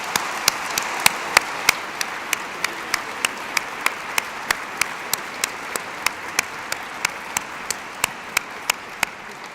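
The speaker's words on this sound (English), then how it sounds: "give all 8 of them a round of applause for putting themselves forward" Audience applause for eight general election candidates at a hustings in Ely Cathedral: one set of crisp, evenly spaced claps sounds close over a steady wash of room-wide clapping that lasts throughout.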